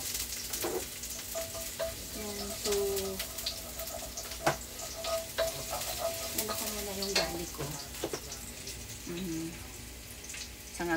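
Vegetables for a meatless chopsuey, including cauliflower and mushroom, sizzle and scrape in a pan as they are stirred, with steady frying hiss and intermittent clinks of a utensil against the pan, close and moderately loud throughout.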